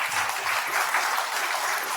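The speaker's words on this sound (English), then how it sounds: "So please put a round of applause for the speaker, Tahiruddin sir." Seminar audience at a ham radio event breaking into applause, a dense, even wash of many hands clapping at once, steady and fairly loud throughout the short stretch.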